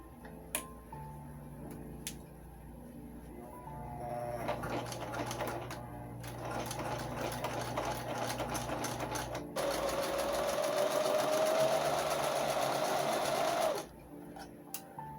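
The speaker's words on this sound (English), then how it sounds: "Now I just need to get started with the lining, sew that in place." A sewing machine runs steadily while stitching a coat lining for a Queen of Hearts cosplay, a close, loud rapid mechanical whir that stops and restarts, with a rising tone in one long run.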